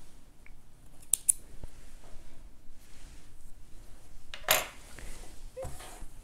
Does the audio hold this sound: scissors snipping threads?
yes